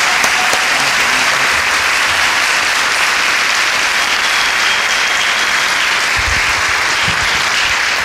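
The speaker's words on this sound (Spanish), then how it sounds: "un aplauso muy grande para Dylan" Sustained, dense applause from a large audience at a cultural honors ceremony, loud and steady throughout with no talk over it.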